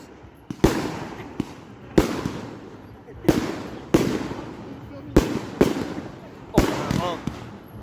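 Fireworks go off in a series of sharp, loud bangs about every second or so, each followed by a crackling, hissing tail, while people talk quietly between bursts.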